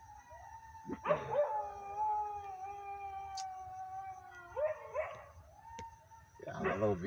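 Jackals howl at night outside a tent, long wavering cries overlapping in a drawn-out chorus at middle distance, broken by a few short rustling bursts.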